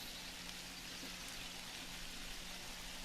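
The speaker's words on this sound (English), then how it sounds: "because it's raining" Steady rain falls in the survival video game 7 Days to Die, a constant soft hiss of drops with a low hum underneath, unbroken and even throughout.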